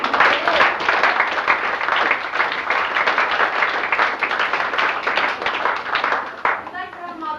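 An audience at a fashion show gives a steady, dense round of hand clapping that lasts several seconds, with a voice speaking briefly near the end.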